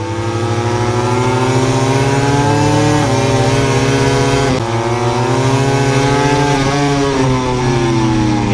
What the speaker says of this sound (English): as soon as he started winding it up 4th, 5th and 6th gear, he was able to stretch away from that Suzuki behind him